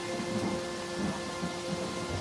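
Heavy rain pours down steadily with low rumbling thunder rolling underneath, a dense continuous wash of sound with no voices.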